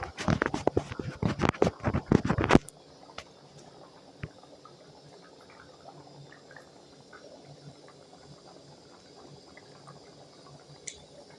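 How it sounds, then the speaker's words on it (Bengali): Cold water splashing and pouring during a bath, a loud burst of rapid splashes for a few seconds, then quiet dripping and small trickles that continue faintly. "আমার স্নান হলো একেবারে ঠান্ডা জল"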